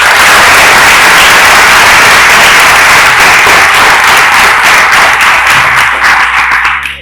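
An audience at a college event applauds, loud dense clapping that fills the hall steadily and then tapers off near the end.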